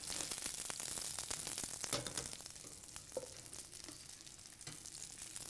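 Food sautés in a hot pan with a dense, steady sizzle and crackle, close and continuous, with occasional light clinks over the frying.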